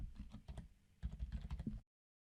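Typing on a computer keyboard while entering text in After Effects: two short bursts of close, clicky keystrokes separated by a brief pause, then silence.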